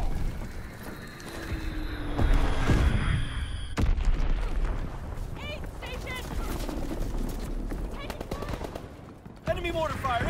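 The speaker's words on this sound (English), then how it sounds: "Enemy mortar fire incoming." Incoming enemy mortar fire and explosions in the World War II shooter Call of Duty WWII, a heavy boom near the start followed by ongoing battlefield gunfire and blasts, with game voices calling out over the din.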